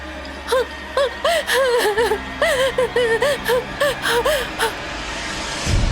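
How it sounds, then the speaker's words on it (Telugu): Two people pant heavily after running in a horror-story sound effect, with rapid, rhythmic gasping breaths, close and loud, ending in a short rumble. "ఇద్దరూ గట్టిగా ఊపిరి తీసుకుంటారు"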